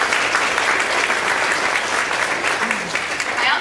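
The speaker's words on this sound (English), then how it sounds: "the specialists all deserve a round of applause too" A school audience at a third grade musical breaks into loud, sustained applause for the specialists, dense clapping that holds steady throughout with a faint voice underneath.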